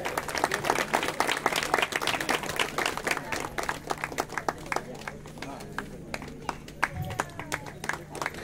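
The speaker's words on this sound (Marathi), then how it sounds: "कृपया मुलांनी जोरदार टाळ्या वाजवायचे आहेत" Children clap strongly at a village prize-distribution ceremony, a dense ongoing patter of many hands that thins slightly toward the end, with a steady low hum underneath.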